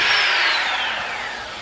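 A power drill bores into metal while mounting Ford tow hooks on a Toyota Tacoma, a single loud, high whine that slowly drops in pitch and fades over a second and a half.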